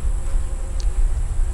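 Honey bees buzz steadily around backyard hives with no one talking, a continuous close droning hum with a faint higher whine above it.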